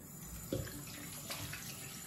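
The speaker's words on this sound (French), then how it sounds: "Je viens de démaquiller, je vais rincer mon visage." Tap water running into a bathroom sink while a face is rinsed, a faint steady stream with a small splash partway through, quiet and without talk.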